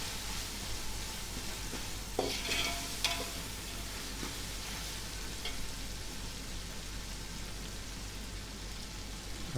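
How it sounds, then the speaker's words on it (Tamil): Tomato masala for mutton biryani frying and being stirred in a pan, a faint steady sizzle with a few soft scraping stirs near the start. "அதை பேஸ்ட் ஆக்குற வரைக்கும் அப்படியே கிளறி விட்டு வேக விடுங்க"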